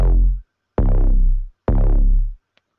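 Three deep bass notes from an FL Studio beat, each a booming sustained hit lasting under a second with short gaps between, played loud and alone with no talk.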